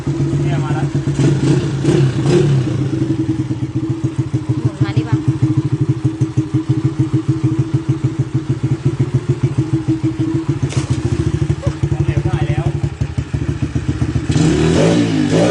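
A yellow older Honda Sonic motorcycle, newly rebuilt, idles steadily close by after starting, a continuous low, rapid engine chug with light mechanical clatter throughout.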